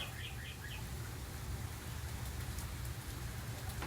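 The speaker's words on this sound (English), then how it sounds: "It is raining harder now. Or whatever it's doing, sleeting, something." Rain or sleet falls steadily, a soft continuous hiss on nearby surfaces, with a few faint bird chirps early on and no speech.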